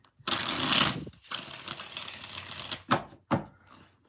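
Tarot cards riffled and shuffled by hand for a reading, a dense papery flutter of close bursts lasting about a second, then a softer sustained shuffle, ending with a few sharp card snaps.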